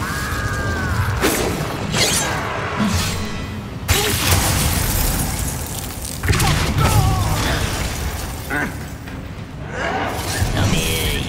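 Incendio fire spell cast in Hogwarts Legacy, several sharp crashing bursts with mechanical, shattering texture that recur across the stretch, layered under frequent in-game speech.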